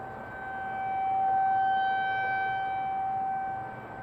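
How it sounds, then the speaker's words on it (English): Tornado sirens wail over Cincinnati during a derecho storm, a steady sustained tone that swells and slowly fades, distant and eerie with a dull storm rumble beneath and no talking. "You can actually hear the tornado sirens."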